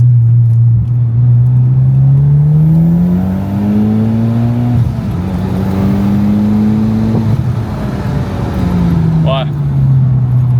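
A Mitsubishi Evo X rally car drives with its engine loud and close, the pitch rising and falling through gear changes over a steady drone.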